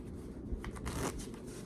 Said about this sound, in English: And this is a closed shuffle.